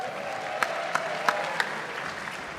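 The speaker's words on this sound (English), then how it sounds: "give a nice round of applause for Mr." Faint, scattered clapping from a convention audience at a Game of Thrones panel at Tampa Bay Comic Con, a thin smattering of applause with a few sharper individual claps standing out.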